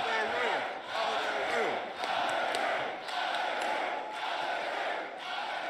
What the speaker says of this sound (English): the whole crowd just starts chanting